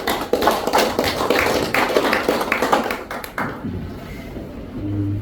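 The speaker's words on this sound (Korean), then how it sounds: "다시 한번 박수" A short burst of audience clapping at a Korean security and strategy forum, loud and uneven with distinct individual claps, tapering off into quieter room ambience.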